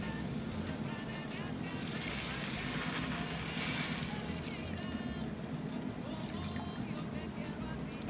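Water poured into rice in a pot for Puerto Rican arroz con pollo, a steady continuous splashing stream close up, alone without talk.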